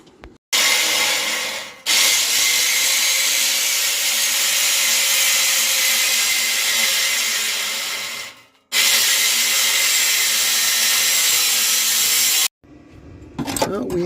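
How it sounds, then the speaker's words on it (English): A cutoff wheel slices through metal floor patch panels for a 1982 Ford Mustang GT, a loud, sustained high-pitched grinding whine in two long passes with brief pauses, close to the listener. "grab the cutoff wheel and we're gonna go cut these"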